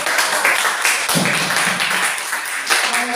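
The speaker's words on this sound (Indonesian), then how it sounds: "tepuk tangan untuk kelompok" An Indonesian school class applauding a group after its presentation, a dense continuous patter of many hands clapping together in a room.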